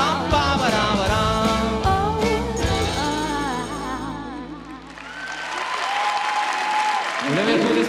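A live duet on BG Radio winds down as the song's last notes fade into warm audience applause for Ruth, which swells and carries steadily to the end.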